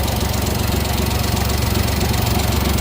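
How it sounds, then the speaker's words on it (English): A turbo-swapped Honda Beat engine idles steadily after running for a long while, giving a continuous, loud, buzzy mechanical drone with a fast even pulse and no talking over it. "the car's been sitting running for about an hour or so"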